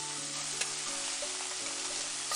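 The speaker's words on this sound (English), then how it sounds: "Sticking the back of her ladle into the mix, she vigorously clatters it around the frying pan, messily stir-frying the food." A ladle's back clatters busily around a frying pan while rice, lettuce and spinach are stir-fried in Fruit of Grisaia, with a steady, close sizzle and no other sound.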